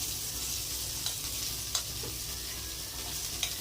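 Vegetables frying in ghee in a kadai, a steady close sizzle with a few sharp clicks of stirring against the pan, no voices.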